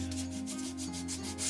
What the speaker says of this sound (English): I hate sanding, but we'll get this sanded.